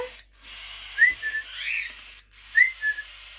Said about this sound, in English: There is a bit of a whistle that he gives me in the morning for me to feed him.